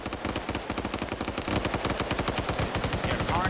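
Rapid automatic gunfire from a sustained magazine dump in the Arma 3 military shooter, tight, evenly spaced bursts firing continuously and growing louder midway, loud and close.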